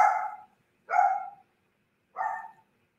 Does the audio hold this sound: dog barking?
yes